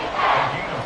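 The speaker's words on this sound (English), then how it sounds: "the crowd getting into it as we come up on a big 3rd down" Football stadium crowd cheering and roaring during a big third-down play in a Dallas Cowboys game, a dense, sustained wash of many voices heard alone for under a second.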